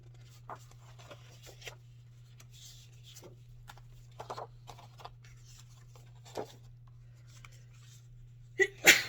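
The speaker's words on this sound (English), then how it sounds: "I sneeze almost in every video I make." A single sharp sneeze bursts out near the end, after quiet rustling and faint scratching over a steady low electrical hum.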